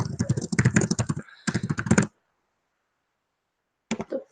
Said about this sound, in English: I'm going to type on my computer.